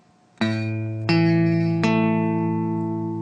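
Three guitar notes are plucked one after another, each ringing clearly and sustaining as the next joins, building a chord.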